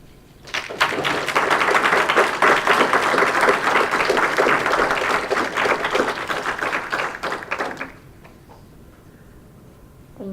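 Loud, dense audience applause at a high school poetry slam follows a poem. Clapping and cheering swell quickly, hold steady for about seven seconds, then drop away abruptly into quiet room tone.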